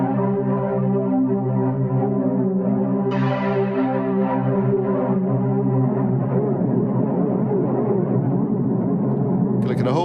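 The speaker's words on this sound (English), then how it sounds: "let's add a chorus" A TGX-85 virtual synth instrument plays sustained, harmonically rich chords with a chorus effect that adds shimmer and swirl, the tone shifting as new notes enter partway through.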